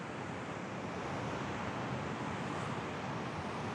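Ocean waves wash continuously onto the beach at Jaco at low tide, crossing each other in turbulent surf, a dense steady roar with no voices.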